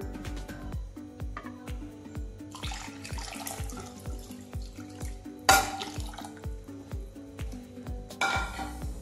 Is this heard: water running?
yes